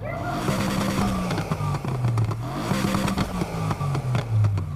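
A loud V8 car engine revs repeatedly in the video game Need for Speed Heat, its pitch sweeping up and down in smooth waves, with sharp crackles and pops layered on top.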